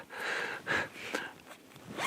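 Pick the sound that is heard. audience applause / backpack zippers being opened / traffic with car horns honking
backpack zippers being opened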